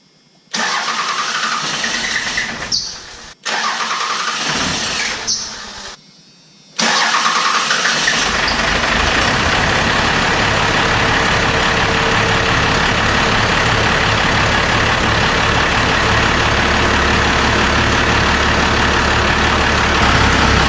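A diesel truck engine cranks in a few bursts with brief pauses, then catches and settles into a loud, steady idle that runs on without talk.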